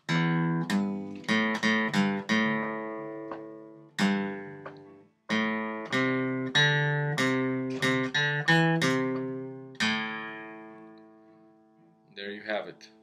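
Electric guitar riff played as call and response, bright plucked notes in quick phrases answered by held chords, clear and close with short pauses between phrases.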